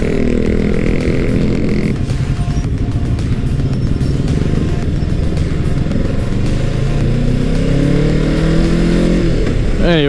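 Scooters pass close by, their engines buzzing loudly and continuously with shifting, rising pitches as several go past, one whining sharply at the very end.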